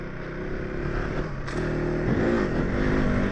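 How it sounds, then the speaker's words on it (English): A KTM 390 Adventure R motorcycle rides off-road, its engine droning steadily and then rising in revs, with gravel clatter and scraping from the terrain beneath. "I'm so impressed with this bike off-road"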